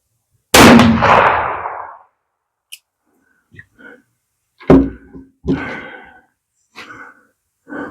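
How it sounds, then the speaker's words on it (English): One loud, booming shot from a Hopkins and Allen under hammer buggy rifle with a lingering echo, followed by quiet clicks, shuffling and a few soft vocal sounds. "I'm going to take my next shot and see if there's if you can see something"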